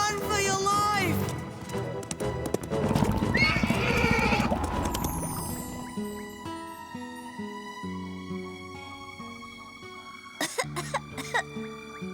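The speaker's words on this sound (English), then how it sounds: "that cough of yours isn't getting any better" A horse in an animated series coughs and neighs in a wet, harsh burst near the start, with clip-clop hooves and a music score behind; short horse-like whinnies and coughs recur.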